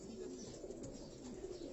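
Kamgar breed pigeons cooing on a rooftop in Karachi, soft low repeated coos rising and falling close by under a faint background hum.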